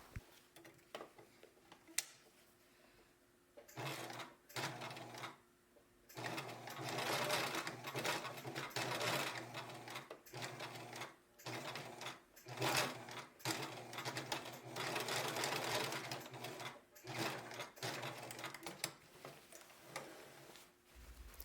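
A sewing machine stitches boxer shorts fabric in bursts of rapid mechanical chatter, pausing briefly between runs, close up and steady.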